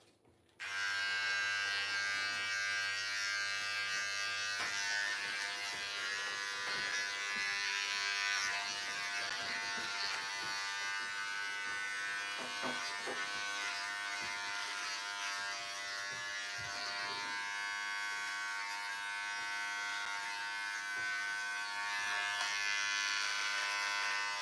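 An electric trimmer buzzes steadily through a beard, a close continuous high whine held for over twenty seconds without talk.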